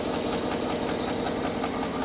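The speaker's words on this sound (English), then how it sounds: "A little weird sound in the engine." A Cadillac with 230,000 miles idles up close with a steady, slightly knocking rumble that hints at an odd engine noise, running alone without talk.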